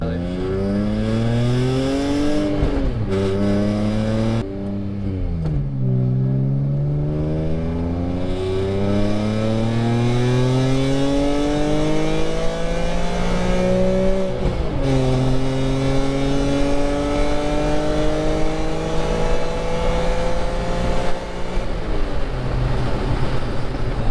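Car with a new louder exhaust, its tone compared to an NSX, revving repeatedly nearby, rising pitch sweeps that climb and drop again several times over a steady engine drone.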